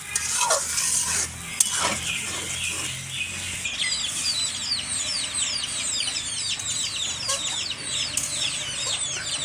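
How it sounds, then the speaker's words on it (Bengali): Spice paste for a tomato and sea rita fish curry fries in a pan, giving a steady close sizzle broken by repeated scraping stir strokes, with no talking. "এখন মশলাটা কিন্তু খুব ভালো করে আগে ভুনা করে নেব"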